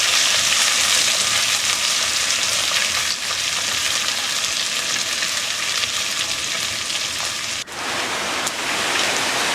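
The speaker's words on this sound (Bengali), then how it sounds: "তাহলে মাছটা খুব ভালো ভাজা হবে।" Small bacha fish fry in a pan as cooking for a potato and pointed gourd curry, giving a steady, dense sizzle that stays loud and close throughout with only brief dips.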